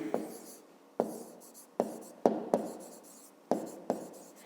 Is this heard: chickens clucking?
no